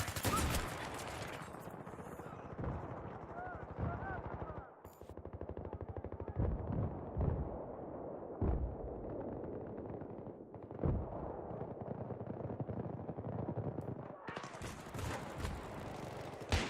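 Sustained automatic gunfire in Battlefield 3 on Xbox 360, with steady rattling bursts and occasional heavier reports, fairly distant and continuous, with a voice talking over it at times.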